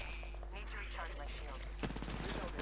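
Rapid bursts of gunfire in the video game Apex Legends crackle over a steady background hum, sharpening into a dense volley near the end.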